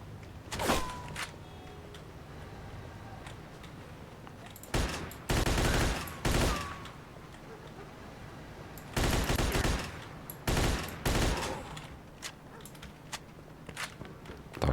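Gunfire in the video game Mafia 2, with several sharp bursts of shots and rapid volleys breaking out amid quieter stretches, loud and close, no talking.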